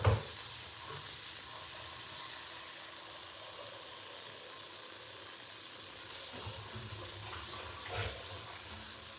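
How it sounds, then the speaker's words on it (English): Tap water runs steadily over potatoes being rinsed in a kitchen, a soft constant hiss and splash at low volume with slight shifts as the flow is disturbed. "Let me rinse these off."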